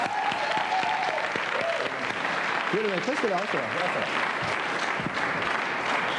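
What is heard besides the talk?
audience applause for Patrick Brosseau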